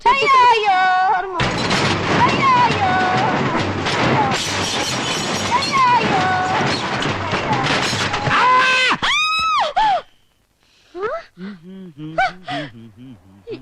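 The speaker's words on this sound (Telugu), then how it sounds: "నాకేదో అరుపు వినిపించింది" A short, sharp scream rings out near the end of a tense comedy-drama film scene, set against dense dramatic music and voices, then quieter sounds follow.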